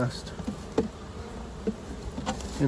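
A captured honeybee swarm hums steadily nearby, with a dense continuous buzz and a few sharper individual wingbeat surges over the drone.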